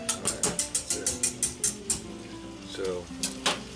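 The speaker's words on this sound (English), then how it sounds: "We're just going to take a whisk." Whisk beating batter for frying remora fish pieces, a rapid series of sharp metallic clicks against the bowl in a steady rhythm for about two seconds, then a pause and a few more strokes, close and clear.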